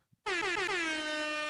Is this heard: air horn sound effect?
yes